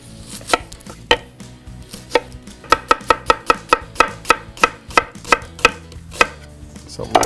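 A knife chops an onion on a cutting board in sharp, close knocks, a few spaced strokes at first that then speed up into a quick, steady rhythm, with no talking.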